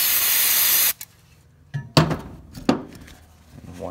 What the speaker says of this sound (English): Wet your rag with a clean spot on your rag with brake cleaner.